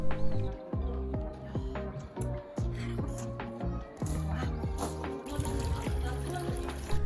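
Water trickles steadily from a mineral water spring in the mountains, a continuous close babbling flow with faint background murmur and no talk.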